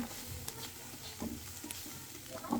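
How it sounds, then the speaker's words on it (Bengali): Bitter gourd (karela) frying in a pan, a quiet steady sizzle with occasional stirring clinks and scrapes, no talk. "এই যে আমাদের করলা ভাজি হয়ে গেছে"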